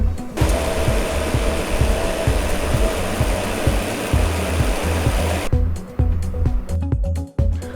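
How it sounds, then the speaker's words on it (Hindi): A small homemade air cooler powered from a 12V DC adapter runs with a steady motor and fan hum and a rhythmic mechanical pulsing, continuous and close, with a brief change in the sound near the end. "चला रहे हैं अपने कूलर को।"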